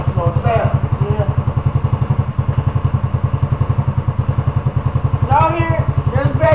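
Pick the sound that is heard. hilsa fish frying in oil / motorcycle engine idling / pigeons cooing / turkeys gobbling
motorcycle engine idling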